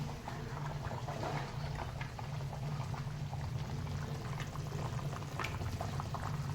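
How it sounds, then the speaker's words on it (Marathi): A pot of gobi vegetable curry bubbles steadily on a stove, with a soft, continuous simmering and popping that holds at an even level throughout, with no talking. "हे बघा आपल्या भाजीला आता छान उकळा फुटलेला आहे."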